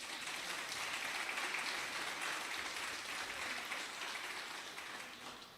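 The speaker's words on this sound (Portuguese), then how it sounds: "Pode aplaudir ao Senhor?" A church congregation claps together in a steady, dense round of applause that stays loud and even throughout, fading slightly toward the end.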